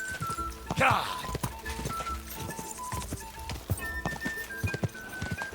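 Horse hooves clip-clopping in Kingdom Come Deliverance II, a steady run of sharp hoof thuds with game music and other sounds underneath, and voices talking over them.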